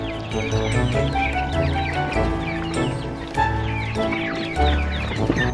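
Chicks and ducklings on a homestead in fall, a dense chorus of busy peeping and clucking poultry calls running throughout at fairly close range, with no talking over it.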